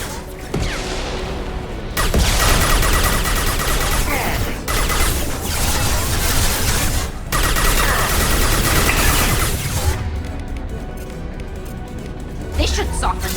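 Automated turret in Mass Effect 2 firing steadily in dense, sustained bursts with heavy impacts, loud and continuous amid layered combat noise, with brief gaps between volleys.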